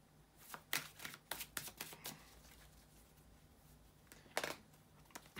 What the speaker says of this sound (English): bear with me a second guys to shuffle the tarot cards